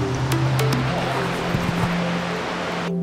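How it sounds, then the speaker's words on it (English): Shannon Falls, a huge waterfall, gives a steady, loud broadband roar of rushing water throughout, with faint tonal hums mixed in and an abrupt change near the end. "there is an absolutely monstrous waterfall"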